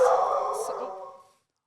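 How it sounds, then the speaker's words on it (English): A guard dog gives a single loud, close bark-yelp that rings out and fades over about a second, indoors during a Halloween-themed wedding episode. "the guard dog is really on it today"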